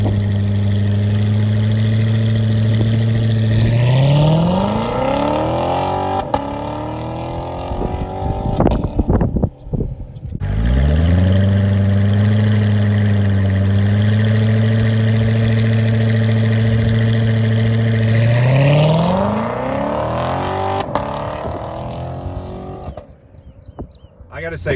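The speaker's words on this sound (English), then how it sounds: "I did get permission to test out the launch control" A 2019 Chevrolet Corvette C7 Grand Sport's loud engine roars up through the gears in a hard launch-control start, pauses briefly, then screams through another full acceleration run before easing off.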